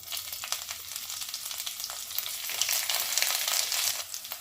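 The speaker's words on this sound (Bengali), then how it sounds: "এবারে আমি একটু গোটা জিরে ফোড়ন দেব, আর রসুন কুচি কাঁচা লঙ্কা কুচি দিয়ে দেব।" Whole cumin seeds, chopped garlic and green chili sizzle steadily in hot oil for a spring onion curry, a close, continuous bright crackle that swells slightly toward the end with no talk.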